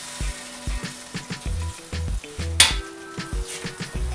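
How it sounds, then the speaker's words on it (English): Ingredients for Surinamese fried rice (nasi) frying in a pan over low heat, a steady close sizzle broken by repeated scraping stirs and one sharp metallic clink, with no voices. "you leave fry for about a minute or 2"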